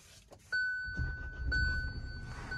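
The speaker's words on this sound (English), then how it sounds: "Let me turn on the car." A 2023 Kia Sonet HTX is switched on: a clear electronic chime rings twice about a second apart over faint key rustling and light handling noise, close up and quiet, with no voices.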